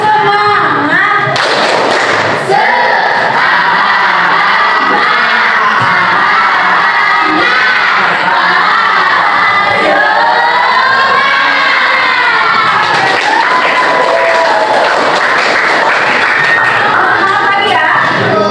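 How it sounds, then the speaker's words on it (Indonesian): A group of students does a rhythmic spirit clap in a classroom, with loud shouted chanting and cheering over the steady, energetic claps for most of the clip. "coba kita tepuk semangat dulu ya"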